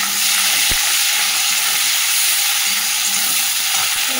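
Onions go into hot oil already tempered with cumin and bay leaf, producing a loud, dense, unbroken sizzling hiss with a couple of brief knocks from a utensil against the pan.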